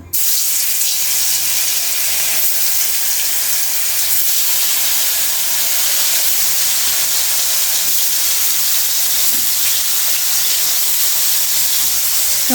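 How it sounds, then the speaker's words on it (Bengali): Loud, constant hissing sizzle of puti fish frying in hot oil in a kadai, unbroken from start to finish. "মাছটা কড়াইতে দিয়ে দিই তেলটা গরম হয়ে গেছে"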